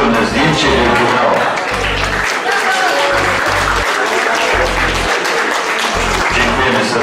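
Audience applauding at a winter running race award ceremony, steady loud clapping lasting several seconds with a voice speaking over it.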